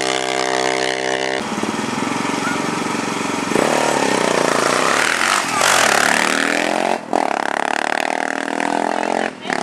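A motorcycle engine labors up a steep uphill road to Marganell, revving loud and close with shifting pitch and brief dips between throttle pulls, continuous for several seconds.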